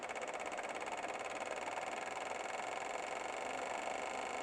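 Car engine running steadily on a fuel injection test bench, giving a faint, even hum with a fine rapid buzz that holds for the whole stretch. No voices.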